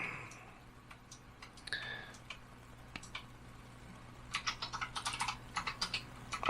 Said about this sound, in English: Got her a new Razer Huntsman Mini keyboard.